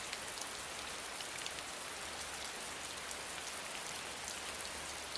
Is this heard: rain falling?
yes